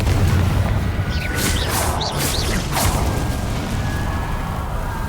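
A Confringo fire spell blasts in Hogwarts Legacy, a loud burst of whooshing booms and crackling impacts that fades into a rumbling tail, with no talk over it.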